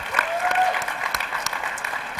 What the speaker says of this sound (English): That deserves applause